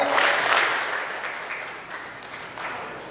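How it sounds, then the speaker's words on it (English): Children at a school assembly clap together, a burst of crowd clapping that starts strong and then tapers off and thins out. "you're going to go clap, clap"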